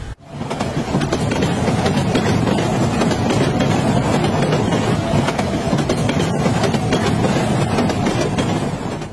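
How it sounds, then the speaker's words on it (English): A train rolls past close by, a loud continuous rumbling roar with faint clickety-clack from the wagons, sustained evenly for the whole stretch with no talk over it. "Oh my god, train!"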